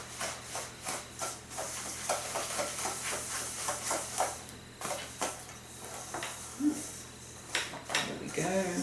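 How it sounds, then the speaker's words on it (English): A spoon works peanut butter, sugar and a broken egg together in a bowl for cookie dough, giving soft, steady, rhythmic scraping and knocking strokes at close range, faint throughout. "So I'm going to break that egg up. I'm going to mix the peanut butter and the sugar."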